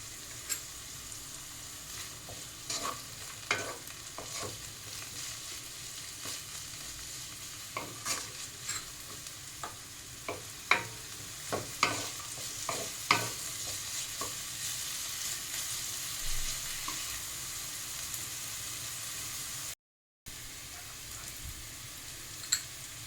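Fried rice with green chilli and salt stirred in a pan, a soft continuous sizzle broken by scattered scraping taps of a spoon, faint and close with a brief gap near the end.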